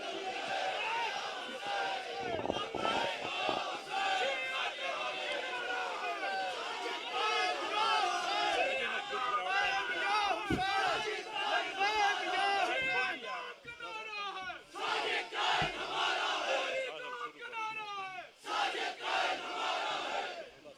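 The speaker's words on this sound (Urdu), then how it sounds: "اپنے بازوؤں کو بلند کیجئے نعرے کے ساتھ لبیک یا حسین" A large crowd at a religious scholars' conference shouts in loud unison, chanting "Labbaik ya Hussain," voices rising and falling in rhythmic bursts with brief pauses between calls.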